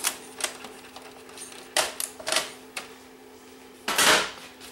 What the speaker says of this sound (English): it's operating the loading mechanism, and the tape is slowly ejecting